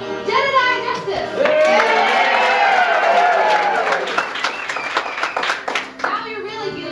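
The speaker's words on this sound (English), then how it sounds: "And clapping and cheering for our hero, Jedediah Justice." A children's theatre audience at the melodrama "Curses, Foiled Again!" claps and cheers for the hero, a loud, dense burst of hands and excited young voices whooping, rising then trailing into scattered claps.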